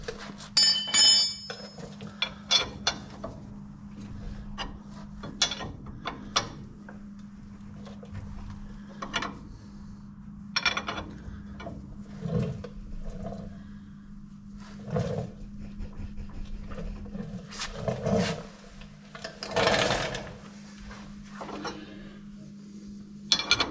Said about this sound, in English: We'll start by tightening up our ball joints.